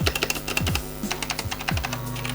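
Rapid typing on an Aula F3032 mechanical keyboard fitted with linear switches, producing quick, close, muted clacks in an uneven rhythm without clicky sounds.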